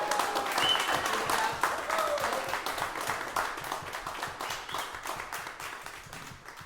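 An audience applauds a jazz saxophonist at a music school workshop, a steady wash of clapping that gradually tapers off.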